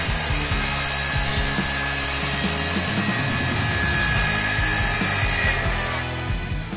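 Evolution EVOSAW185HD portable saw with a 7 1/4 inch circular-style blade and 1.6 horsepower motor cutting through material, a loud continuous grinding, rasping cut that holds steady and tapers off at the end, no voices.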